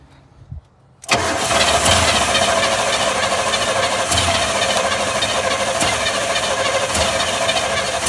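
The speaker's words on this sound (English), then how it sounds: "got the engine cranking over" A car engine cranks briefly, then catches and roars to a steady, loud run that continues without letup.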